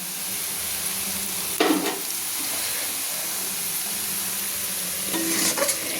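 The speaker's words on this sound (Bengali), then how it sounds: "কি সুন্দর একটা পেঁয়াজগুলো লাল লাল করে ভাজা হয়ে এসছে।" Onions fry in hot oil in a pan with bay leaf, dried chillies, green cardamom and cinnamon for a chicken masala. The sizzle is a constant close hiss, with a couple of louder scraping stirs and no voices.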